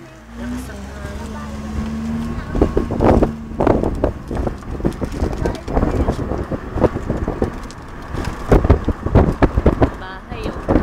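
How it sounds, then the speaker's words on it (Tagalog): Strong wind buffets an outdoor microphone on a road trip, a steady broadband roar with gusty swells, while a person talks over it and low vehicle rumble runs underneath. "Lakas ang hangin."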